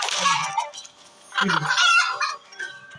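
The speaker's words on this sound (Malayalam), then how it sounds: "അറബി കോഴി ഓടുന്നതാ." Short bursts of video game chicken clucking and squawking, bright and close, with a pause in the middle before another flurry of clucks.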